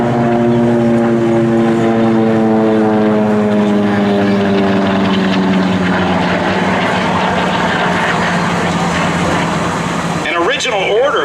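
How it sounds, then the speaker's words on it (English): A WWII SB2C Helldiver dive bomber makes a loud, droning propeller-engine flyby at an open-house airshow, its rough roar falling in pitch as it passes and continuing steadily throughout. "It's a photo pass of the SB2C Helldiver."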